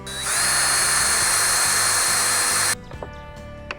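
A power drill bores a hole through a wooden shamrock, a steady high whine holding for almost three seconds before cutting off sharply, followed by a few faint clicks and handling noises.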